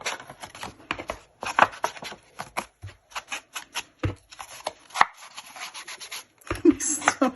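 An ink pad is rubbed and dabbed onto a paper tag for a tag kit, making close, uneven bursts of scratchy scuffing and soft taps separated by brief pauses.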